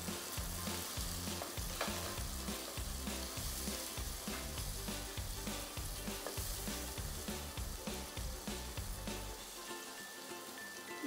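Tomato pieces are stirred into frying masala for egg dum biryani, giving a continuous close sizzle with scraping stirring strokes all the way through.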